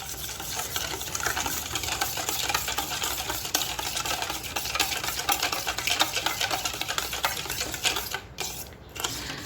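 A spoon stirring vanilla essence into a mango pudding mixture, a continuous close scraping and clicking against the bowl with a busy, even rhythm, briefly easing near the end.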